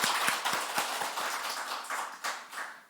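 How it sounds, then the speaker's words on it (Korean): Church congregation clapping in encouragement for young worshippers: a moderate round of distinct, fairly quick claps from a modest crowd, close and steady without voices. "격려와 축복의 박수 한번 부탁드립니다"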